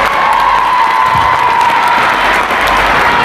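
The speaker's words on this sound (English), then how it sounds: "One more round of applause for 12 mates." A crowd applauds and cheers for volleyball teammates at an end-of-season celebration, loud continuous clapping with whoops and shouting voices.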